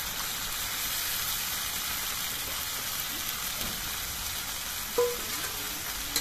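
Soaked chana dal hitting spiced oil and frying with the masala for a pumpkin curry, with a soft, even sizzle running throughout and one brief utensil scrape near the end.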